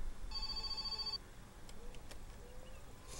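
A telephone rings in the video game My Summer Car: a thin, electronic trilling ring near one second long over a low background hum, followed by faint clicks.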